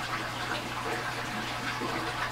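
Cherry syrup pours into orange juice in a steady, close liquid stream, splashing and gurgling continuously with no voices.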